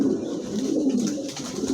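A caged pigeon coos softly and continuously at close range, low throaty murmuring rolling on without pause, with no speech over it.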